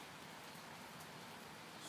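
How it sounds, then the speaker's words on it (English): Light rain falls outdoors as a soft, steady, even hiss that stays faint and distant throughout, with no voices or other distinct sounds. "It started to rain a little bit."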